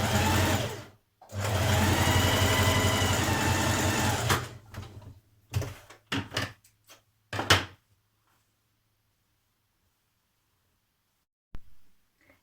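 A domestic sewing machine stitches a back tack on a dress seam: a steady run of close mechanical whirring, then short stop-start bursts for the reverse stitches, followed by quiet and a faint click near the end.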